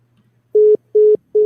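After a caller hangs up, a telephone line gives three evenly spaced beeps of a single steady tone, loud and clear, with near silence between them.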